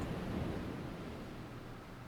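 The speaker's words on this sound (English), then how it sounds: "The first sound you hear is that of the waves crashing and splashing outside." Ocean waves wash and splash onto a beach outside a house, a soft, steady broadband rush heard faintly and alone, slowly fading.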